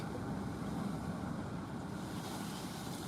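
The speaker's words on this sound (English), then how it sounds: "Pretty windy here." Steady wind blows across the microphone in a continuous broadband rush, with low rumbling and no distinct pauses.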